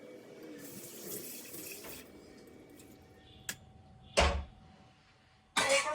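Rice being rinsed under a running kitchen tap, a steady stream of water splashing in a sink with a few sharper splashes and clatters toward the end, close and alone.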